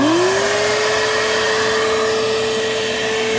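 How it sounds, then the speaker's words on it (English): A shop vac runs continuously as it pulls gunk out of an air conditioner condensate line, making a loud, steady whine that rises briefly at the start and then holds even. "then you just turn on your shop vac"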